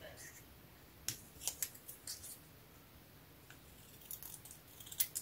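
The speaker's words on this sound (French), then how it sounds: "Donc je vais couper ça." Scissors snip through craft material with a few crisp, separate cuts close by in a quiet room, a handful of short clicks spread across a few seconds.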